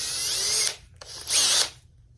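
A power drill fitted with a universal socket whirs in two short high-pitched bursts, close by, with a brief pause between them and a low hum underneath.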